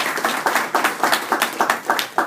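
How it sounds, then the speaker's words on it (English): Rhythmic clapping from an audience at a speaker series talk, strong even beats about four per second, close and fairly loud, with no talk over it. "Let's give another round of applause to Michael Markrich."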